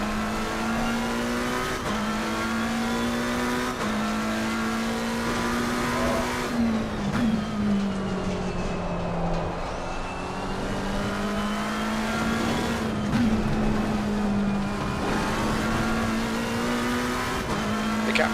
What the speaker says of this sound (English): He's going round the corners and you can hear the back end, it's just sliding.